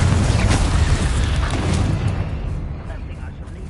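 A Confringo fire spell explosion in Hogwarts Legacy, a loud deep boom with a rumbling burst that fades away over a few seconds, with a voice speaking over it.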